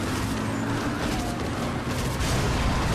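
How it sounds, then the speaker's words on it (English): Explosions in the zombie video game Dead Rising, a dense, continuous rumble of blasts and booms filling the scene at steady loudness, with no talking. "Oh yeah, explosions."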